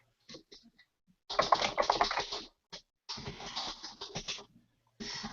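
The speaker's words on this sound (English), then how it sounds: "So I'm kind of typing this stuff in this shared document that we have." Typing on a computer keyboard into a shared document, heard as bursts of rapid, close key clatter with short pauses between them, loud enough to stand alone with no talk.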